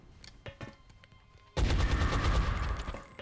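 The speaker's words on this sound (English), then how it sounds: "up first we have 1, maybe 2 shots from Andrea" Gunfire in the video game XCOM Enemy Within: light clicks and shuffling, then a sudden loud blast that holds as a dense roaring barrage for over a second before tapering, with no talk.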